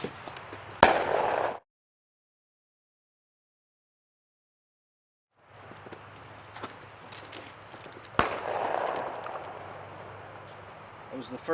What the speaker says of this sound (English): That was the first shot.